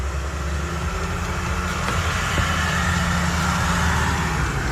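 A truck goes by close at hand with a loud, continuous engine rumble and road roar that hold steady and swell slightly over several seconds.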